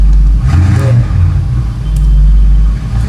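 A car engine revs close by in a long low rumble, swelling and easing over a few seconds with no talk over it.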